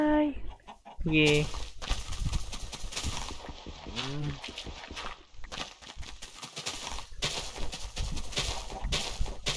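Chickens cluck in a Minecraft One Block game, with a few short high calls amid continuous game sounds and music, while someone talks excitedly throughout.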